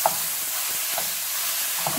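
Ground beef hits a preheated pot with no oil and sizzles, a steady close frying hiss with a few soft stirring knocks.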